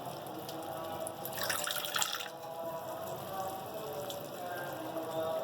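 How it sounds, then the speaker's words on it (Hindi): A small splash of water is poured over salt, turmeric and other spices while making beef shami kabab, with a brief burst of pouring in the middle over steady, close kitchen hiss. "थोड़ा सा पानी डाल के इस तरह करके, हमारे मसाले ज़ाया नहीं होंगे"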